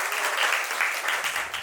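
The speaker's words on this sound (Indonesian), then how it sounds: "Iya, tepuk tangan sekali." Students in a classroom give a single burst of applause, a brief, steady wash of many hands clapping together at moderate level, with no talk over it.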